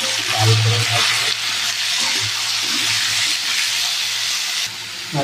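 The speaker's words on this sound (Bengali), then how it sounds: "তেলটা গরম হয়ে গেছে, আলুগুলোকে আগে ভেজে নেবো" Potatoes frying in hot oil with salt and turmeric, a loud, dense, continuous sizzling hiss up close, with a low hum and the occasional faint clatter, no one talking.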